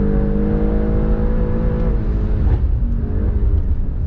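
A 2024 Alfa Romeo Stelvio Quadrifoglio performance SUV driven hard on a track, its engine a loud, steady droning roar heard from inside the cabin with slight pitch shifts.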